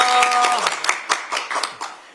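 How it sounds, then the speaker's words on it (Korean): An audience applauds at a Democratic Party of Korea event announcing local-election campaign pledges. A speaking voice opens, then scattered clapping picks up into moderate, uneven applause that tapers toward the end. "박수 좀 크게 좀 쳐주셨으면 좋겠습니다."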